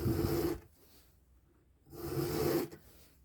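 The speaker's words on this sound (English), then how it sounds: "I'm going to just let the file do the work. I'm not going to press in too much, and just do a few strokes" Two slow rasping strokes of a round file sharpening a chainsaw chain, close and distinct, each about half a second long and separated by a quiet pause.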